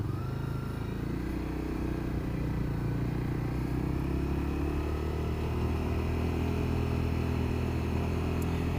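A motorcycle riding in traffic toward a bridge, continuous rumbling engine under heavy wind buffeting, steady and close, with faint traffic noise around.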